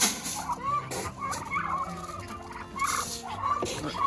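A farm turkey gobbles in several quick rattling bursts, close and fairly loud, with softer clucks and fowl noises in between and no talking over it.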